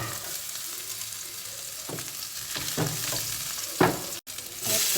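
Onion and garlic sizzle as they are sautéed in a hot pan for a bamboo shoot dish, a steady close frying hiss with a few stirring scrapes and clanks.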